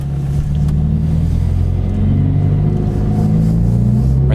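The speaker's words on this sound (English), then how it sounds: "So guys, finally got the exhaust installed." Subaru BRZ idling in a parking lot with a newly installed Nameless Performance exhaust, a loud, steady, deep rumble that holds constant throughout, close and alone with no talking.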